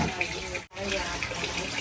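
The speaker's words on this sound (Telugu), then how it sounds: "ఇందులో కొంచెం వాటర్ పోసేసుకున్నాం." Water poured into a pan of chicken kurma curry, a close steady gushing stream with a brief break partway through.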